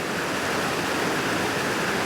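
Waterfall on the Lurg Burn, a steady, loud broadband rush of falling water that continues unbroken and close by, with no voices.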